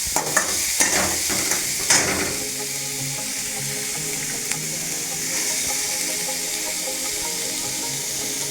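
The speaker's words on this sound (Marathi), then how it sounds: "कांदा आपल्याला पूर्ण लालसर होऊन द्यायचा, थोडासाच परतायचा आहे." Chopped onion sautéing in a pan for onion chutney, a continuous sizzle with stirring scrapes and a few louder clatters near the start, no talking.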